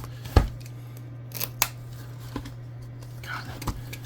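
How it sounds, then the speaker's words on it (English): A plastic-wrapped box of football cards is opened. Scattered sharp snips and crinkly tears of the wrapping sound close up over a steady low hum, with brief soft talk. "I'm going to go and open this other box up."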